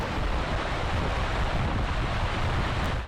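Seljalandsfoss waterfall in Iceland, a loud, dense, continuous roar of rushing water heard close up with a wind-buffeted rumble and no voices.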